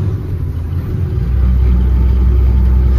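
A vehicle's engine hums and rumbles steadily while driving to the market, a loud, close, low drone that swells slightly partway through and holds an even, continuous pitch.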